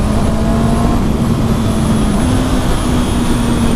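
A 2019 Honda CB650R motorcycle engine drones loud and close, holding a steady high tone with a brief rise partway through as the rider downshifts with a slipper clutch on a tricky corner, all under heavy wind rush.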